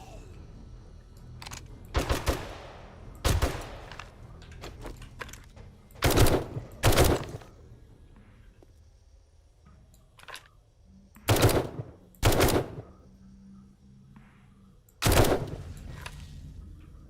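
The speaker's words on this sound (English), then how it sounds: "Put down a little suppression fire." Automatic gunfire from the modded video game 7 Days To Die rattles out in loud, separate bursts, with short pauses between each volley.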